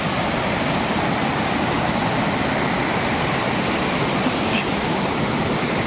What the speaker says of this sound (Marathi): हा आमचा धबधबा आहे मित्रांनो